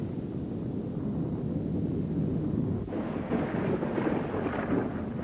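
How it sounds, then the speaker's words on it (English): Cartoon rumbling effect, a low continuous roar that swells and grows brighter halfway through, heard alone without speech. "What's that rumbling?"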